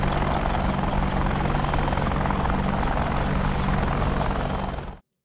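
A Mi-24 Hind attack helicopter in the DCS flight simulator flies with a loud, steady rotor drone and engine whine that continues unbroken before cutting off abruptly, with no voices.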